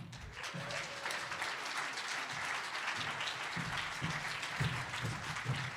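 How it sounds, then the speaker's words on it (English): Sustained audience applause fills a conference hall at a personal-development event, a dense, even wash of many hands clapping at steady loudness throughout, with no talk over it. "One more round of applause for them."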